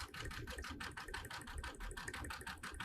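A sewing machine stitches a ditch seam through quilted fabric, a fast steady rhythmic clatter of needle strokes, close and even, with no voices.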